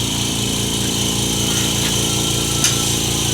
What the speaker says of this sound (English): I'm going to flip the air compressor on.